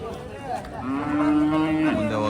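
A Hallikar cow at the Kennamangala cattle market near Hosur, Tamil Nadu, gives a single drawn-out moo, close and clear over quiet background murmur.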